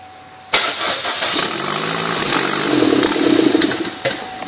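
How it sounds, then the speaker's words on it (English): A damaged 2015 Chevrolet Trax with an exhaust leak cranks and catches abruptly, then idles roughly and loudly up close for a few seconds before settling down. "So we're just going to start it here, and it's going to quick shut off."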